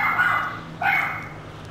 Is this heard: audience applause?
no